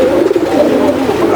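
Racing pigeons, birds bred for speed racing, coo in a loud, close, continuous murmur of low throaty calls, steady throughout with no talk over it.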